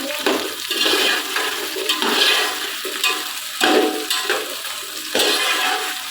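Potatoes fry in a pot for aloo pulao, a steady close sizzle and bubbling with bursts of stirring and clatter, no voices.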